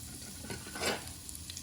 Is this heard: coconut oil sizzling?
yes